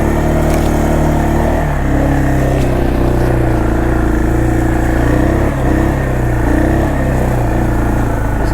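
A 1996 Arctic Cat 454 Bearcat 4x4 ATV on a top speed run, its engine droning loud and close with shifting pitch as it accelerates, no talking.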